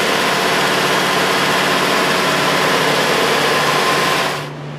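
A Hyundai Sonata engine idles steadily with headlights, rear defogger and blower motor all running, a loud, even hum with constant whine, close up, until it fades near the end.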